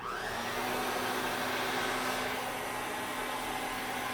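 A hair dryer blows steadily at close range while straightening frizzy hair, a continuous airy motor roar that holds at an even level throughout.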